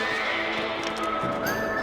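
A horse whinnies in the video game Red Dead Redemption, a short rising neigh over steady game ambience with faint hoof sounds.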